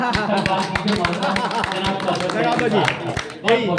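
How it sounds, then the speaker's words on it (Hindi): An audience at a poetry recital claps in a short, brisk round under a voice, with crisp rhythmic claps running throughout and a louder burst near the end. "जोरदार तालियों के साथ"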